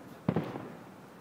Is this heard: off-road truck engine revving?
no